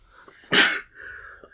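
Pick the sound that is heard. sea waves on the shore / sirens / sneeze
sneeze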